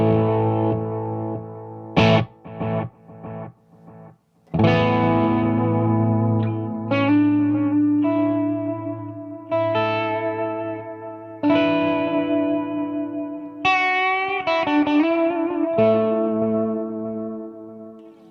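Electric guitar through a Mooer Ocean Machine dual delay/reverb pedal, picked notes and chords followed by layered repeating echoes that trail off, loud and alone with short gaps between phrases.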